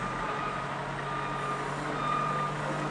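A snow plow truck backing up on a residential street after a blizzard, its steady reversing beep sounding over a continuous diesel engine rumble at moderate distance, with no voices.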